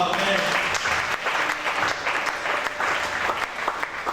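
A church congregation applauding, dense and sustained clapping from many hands filling the room with a steady roar, with voices mixed faintly underneath.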